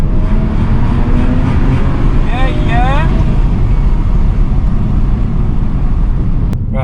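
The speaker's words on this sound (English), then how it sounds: "we've got a bit of a tunnel here. Ready? See what this sounds like." A stage 1 BMW 335i drives through a tunnel, its engine a loud, continuous low rumble echoing off the walls, with a brief rising tone partway through and a sharp click near the end.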